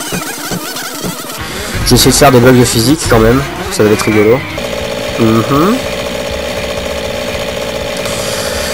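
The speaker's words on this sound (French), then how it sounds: "un petit bruit de moteur à la con qui cache absolument toute la musique" A motocross motorcycle engine in the video game McGrath vs. Pastrana drones as a constant buzzing whine under someone talking throughout.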